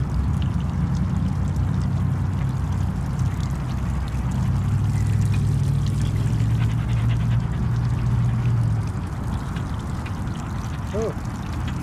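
Water runs steadily at a dog wash station outdoors in Miami, a constant rushing spray filling the scene, with a brief squeak near the end.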